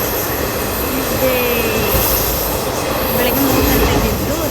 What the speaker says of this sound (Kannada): ಹೊಸಪೇಟೆ ಟ್ರೈನು ಅರಸೀಕೆರೆಗೆ ಹೋಗ್ತಾ ಇತ್ತು